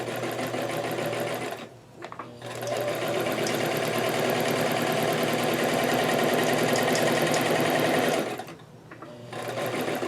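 A sewing machine stitches cloth with a fast, steady mechanical whir and needle clatter, running loud and continuous, pausing briefly twice before starting again.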